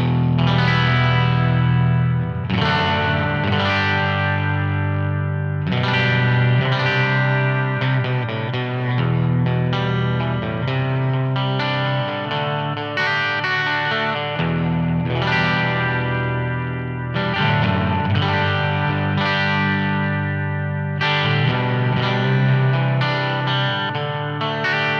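Electric guitar played through a Blubox pedal into a silver 1x12 cabinet on a hybrid pedalboard, giving a steady, loud, distorted stream of chords and riffs with brief pauses between phrases and no talking.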